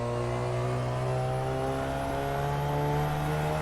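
Car engine in the racing game Assetto Corsa on the LA Canyons roads, revving steadily upward under load, a loud close-up harmonic drone that holds evenly throughout with no talk.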